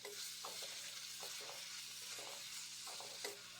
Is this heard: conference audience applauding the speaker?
no